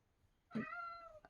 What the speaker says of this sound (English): At least they can hear you on camera meowing.